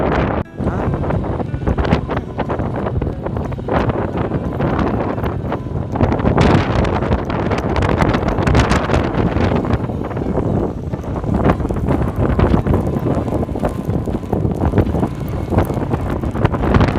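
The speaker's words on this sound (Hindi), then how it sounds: "हमें अचानक तेज़ हवा का सामना करना पड़ा। काफ़ी तूफ़ानी हवा है।" Strong, stormy wind roars and buffets the microphone on a mountain road journey toward Balim and Laspur, a loud, continuous rushing gust that swells and surges throughout with no voices.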